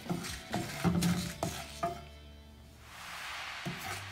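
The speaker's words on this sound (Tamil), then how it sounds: "இதையும் நல்லா பச்சை வாசம் போகிற வரைக்கும் நல்லா வறுத்துக்கலாம்" Masala with pepper powder being dry-roasted in a pan for chicken seekh kebab, a series of distinct spoon scrapes and knocks against the pan over a low sizzle that fades, then one more stir near the end.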